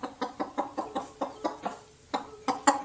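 Repeated close clucks from a hen, evenly spaced, then a short pause before several louder, higher-pitched clucks at the end.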